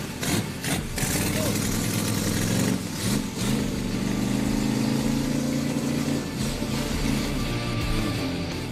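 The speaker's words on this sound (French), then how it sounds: "Le moteur démarre au quart de tour" A Riva Super Florida boat engine starts with a few sharp cranking bursts, then settles into a steady mid-pitched running drone that holds loud and even for several seconds before a brief dip and a return.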